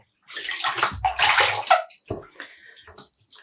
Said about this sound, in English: I'm going to dunk it again.